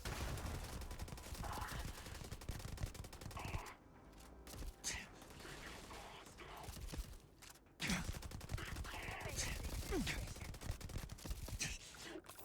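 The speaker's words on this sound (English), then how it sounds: "There is a suppressed actual variant of the assault rifle." A suppressed Halo 5 assault rifle, modded into Starfield, fires in sustained, muffled bursts with brief pauses and mechanical clicks, fairly quiet overall and with no talk.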